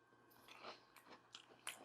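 Quiet, close chewing of crunchy beer-battered haddock, irregular soft crackles and crisp bites breaking through the batter, with no talking.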